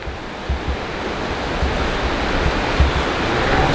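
Surf breaking on Benaulim Beach in South Goa, a steady broad wash of waves with soft rolling surges, close and continuous with no voices.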